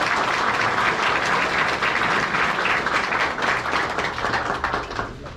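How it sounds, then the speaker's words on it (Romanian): Sustained audience applause at an event marking International Roma Day, a dense, steady wash of many hands clapping at close range for the full stretch, fading slightly at the end, with no talk over it. "aș dori să nu ne ferim să continuăm aceste aplauze."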